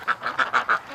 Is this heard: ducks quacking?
yes